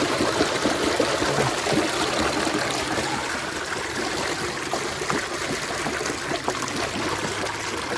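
A cleaned water tank fills with fresh water: a loud, steady, close-up rush and trickle that runs unbroken from start to finish.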